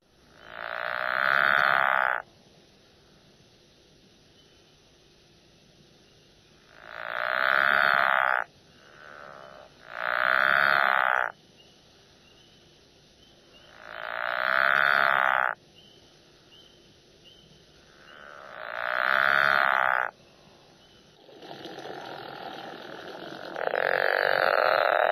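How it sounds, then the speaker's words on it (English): Pickerel frogs calling in a series of loud, near snoring croaks, each lasting about two seconds and separated by quiet gaps of several seconds, alone against a faint night background. "let's go ahead and give a listen to an individual or a small group of pickerel frogs."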